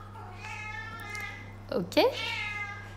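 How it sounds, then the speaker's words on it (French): A cat meows twice in quick succession, rising and falling, close and fairly loud over a steady low electrical hum, with a person's voice briefly nearby. "J'ai mon chat qui pète un câble."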